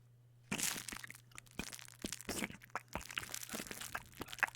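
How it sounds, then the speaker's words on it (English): During an ASMR cranial nerve exam, close, crackly crunching and squishing noises come in irregular bursts over a faint steady hum. "You might hear like an unpleasant kind of crunching, squishing noise."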